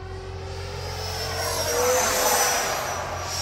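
A Freewing F-22 90mm RC jet roars overhead during a performance flight, its steady loud whoosh swelling slightly as it passes, with no talking.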